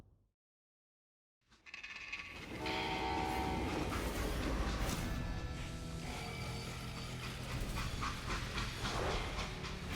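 A freight train in the Western video game Call of Juarez: Gunslinger starts up after a brief silence, a loud continuous rumble and clatter of wheels and cars with a horn-like tonal layer, no voices.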